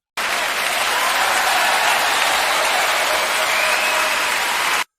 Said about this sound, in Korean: 우레와 같은 박수 소리가 홀 안에 울려 퍼진다.